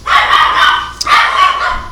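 Dogs barking loudly and close by: a sustained rough burst, a short pause, then another long round of barking.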